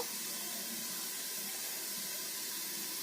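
Pumpkin frying in a pan, giving a steady, even sizzling hiss that holds throughout with no pauses, close and moderately quiet.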